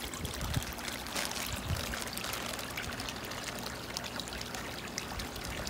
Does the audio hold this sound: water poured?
yes